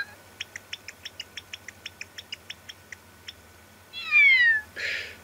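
A voice imitates a cat's meow in the anime Dragon Ball Super, following a regular run of short clicking or chirping pulses; the meow is drawn out, clear and up close, with no talk.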